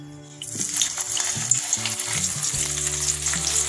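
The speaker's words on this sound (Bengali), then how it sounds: "সেই তেলেই আমি সয়াবিনগুলোকে দিয়ে দেবো" Soya chunks sizzle and crackle in hot oil left from frying potatoes, a bright steady frying hiss that starts abruptly and carries on with soft stirring scrapes and faint clinks of the pan.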